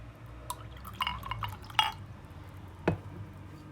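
Water and orange blossom water mixed by hand in a glass while making almond pastry: sparse, faint drips and small splashes against quiet background noise, with no talking.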